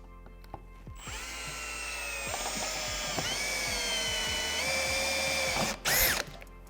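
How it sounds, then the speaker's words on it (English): A power drill bores a hole through a boat to mount a trolling motor heading sensor, a close, steady whine after a few brief starts, rising to a louder burst near the end. "so we're going to go ahead and drill a hole out for that"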